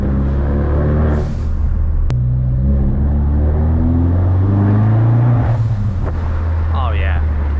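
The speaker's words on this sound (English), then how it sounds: "The bigger engine displacement sounds so much better. It's a lot deeper, a lot throatier." A car with a larger-displacement engine drives at a deep, throaty rumble, the engine note rising and shifting up close while a person talks over it.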